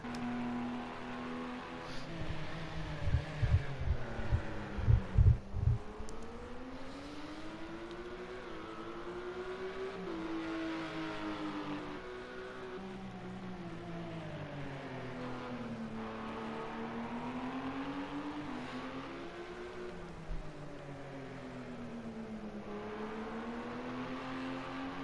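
Race car engines rev and accelerate out of the last turn and down the straight at Algarve in Project CARS 2, a GT sprint race. A loud, rising and falling engine whine carries through with gear changes and a brief rattle early on.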